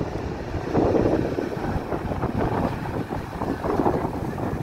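A Uni Air Airbus A321-200 jet airliner lands at Taipei Songshan Airport, heard from a nearby street as a steady, fairly close low roar and rumble with wind noise and no voices.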